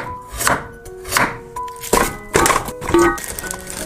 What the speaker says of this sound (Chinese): 一整块午餐肉放进保鲜袋里压成肉泥